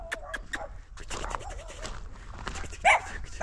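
A Central Asian shepherd dog indoors gives low rumbling growls and short yips between stretches of quieter sound, ending in a sharper vocal burst, with faint human voices in the background.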